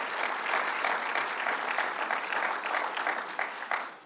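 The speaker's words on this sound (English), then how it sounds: "So let's give him a round of applause for that." Steady applause from the crowd at Governor Cuomo's Long Island tax fairness campaign event, with sustained dense clapping throughout that tapers slightly toward the end.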